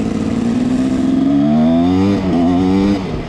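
A motorcycle, its make and size unknown, revs loudly close by, the engine pitch climbing then dipping and rising again as it accelerates past on a road, with no voices over it.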